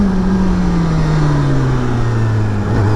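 A 2025 Kawasaki ZX-10R, a 203-horsepower superbike, accelerates on a mountain pass road, its engine note a loud, continuous droning tone that shifts in pitch with wind rush.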